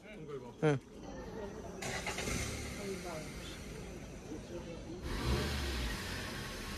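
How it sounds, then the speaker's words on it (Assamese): A Hyundai i20 car engine cranks and catches, then settles into a steady idle, with a brief voice near the start and a louder rev near the end. "কি ধুনীয়া চাউণ্ড গাড়ীখন।"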